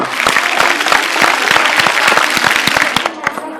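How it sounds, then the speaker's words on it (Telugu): Girls in a TV studio audience clapping hard together, a loud, fast burst of close applause lasting a few seconds before tapering off. "ఒకసారి గర్ల్స్ గట్టిగా క్లాప్స్ కొట్టాలి"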